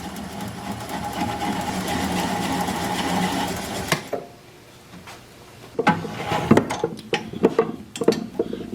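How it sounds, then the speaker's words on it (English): A wood lathe spins a black locust bowl while a gouge cuts, making a loud continuous whir. It stops abruptly partway through and is followed by quieter clatters and knocks of handling. "I'm going to apply the bevel of the gouge against the bottom of the bowl."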